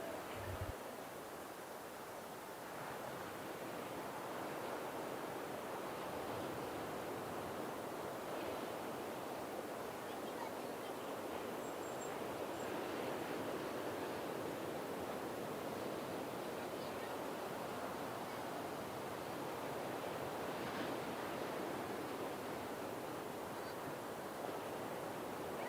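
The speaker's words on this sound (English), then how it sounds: "the swell is definitely arriving in the bay" Steady ocean swell and surf rolling into a bay during a longboard surfing championship, heard as a continuous, soft wash of breaking waves with no distinct individual crashes.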